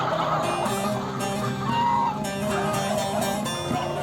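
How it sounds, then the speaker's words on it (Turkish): Chickens and roosters at a busy outdoor poultry market near Çubuk, Ankara cluck and crow in the background, several birds calling over one another amid general market bustle and faint voices. "Horozlarda çeşit çeşit her cins tavuk var, horoz var."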